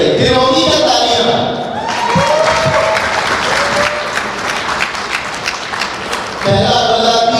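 A crowd at a community fundraising auction breaks into loud applause with some cheering, the clapping running under music and voices that fade in and out.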